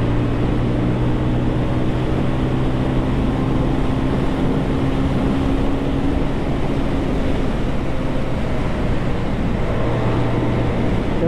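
A delivery motorcycle held back in a low gear, its engine a steady, close drone with a constant hum throughout and no voices.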